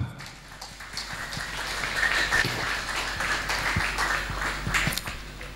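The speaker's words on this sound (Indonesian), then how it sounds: "Tepuk tangan untuk Mam." Applause from an audience at a school graduation and farewell ceremony, steady, moderately distant clapping that fills the room for several seconds with a faint hum underneath.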